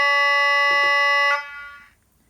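Air horn 2 from a Hornby Colas Rail Class 56 model locomotive with DCC sound: a loud, sustained two-tone horn blast of just over a second, then a short fading tail, with no talk.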